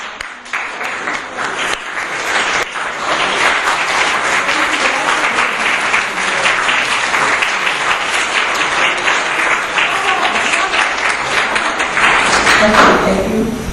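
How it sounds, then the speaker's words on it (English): A standing audience at a peace forum gives loud, sustained applause, dense crowd clapping that builds quickly and continues for over ten seconds, swelling slightly near the end. "please let's give a resounding round of applause to everyone standing and also for those of you in the audience"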